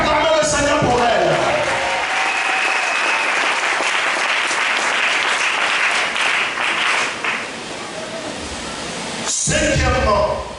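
Church congregation at a Sunday service breaking into loud, sustained applause that fills the room for most of the stretch, easing off briefly near the end before swelling again.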